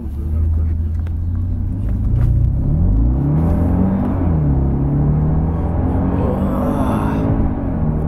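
A Jaguar car accelerating hard, its engine rumble rising in pitch through the gears, loud and close from inside the cabin, with a person talking over it.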